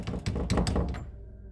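A dull thudding rattle from a door being tried, in a scary story, several quick knocking bumps close together for about a second before fading, fairly muffled and alone.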